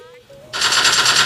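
Automatic weapon fire in PUBG Mobile played on a Poco X3 Pro phone, a dense continuous burst that starts abruptly halfway through and stays loud to the end, following a brief quieter stretch.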